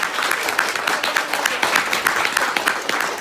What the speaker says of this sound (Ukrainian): Маріуполь в нас, ваші оплески.